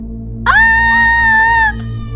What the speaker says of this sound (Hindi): ये देखकर वो जोर से चिल्लाई।